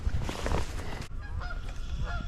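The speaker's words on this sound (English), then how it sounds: "It's the geese." Geese honk beside a river, with several loud nasal calls near the start, then a sharp break and scattered fainter honks continuing against outdoor background noise.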